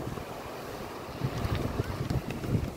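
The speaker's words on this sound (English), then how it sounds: "I did mark it, but the wind blew it, blew my marker off." Wind gusts outdoors on a beach by the ocean, a rough low rumble buffeting the microphone and swelling toward the end, with surf faintly beneath.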